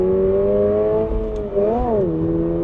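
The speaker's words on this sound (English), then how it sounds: "That's an engine that really likes to be revved out all the way to redline" A Subaru BRZ tS manual sports car engine revs steadily and loudly, its tone climbing and wavering briefly as it pushes toward redline.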